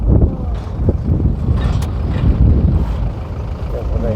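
Strong wind buffets an outdoor microphone, a steady low roaring rumble that fills the whole clip at close range, with no pauses.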